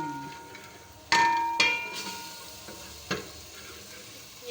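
Macaroni masala being stirred and sautéed in a pan, with a faint steady sizzle and a few sharp spoon-scraping clatters standing out.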